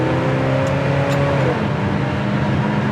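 A 1974 Oldsmobile 442 with an original transmission drives at steady speed, a loud continuous engine drone with shifting tonal whine, heard up close from inside or beside the car.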